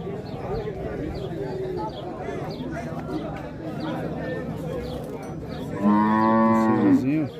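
Cattle at a livestock fair in Negras, Itaíba, Pernambuco, one loud close moo near the end over a busy crowd background with people talking throughout.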